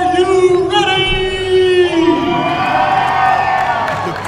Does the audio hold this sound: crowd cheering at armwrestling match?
yes